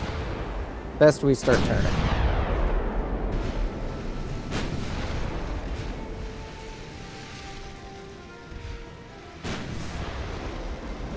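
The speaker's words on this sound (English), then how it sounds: "They are returning fire, and they hit the Texas." Warships trading gunfire in the naval game Ultimate Admiral: Dreadnoughts: a close, heavy double blast of big guns, then rumbling echoes and more distant booms, while a voice speaks over the battle.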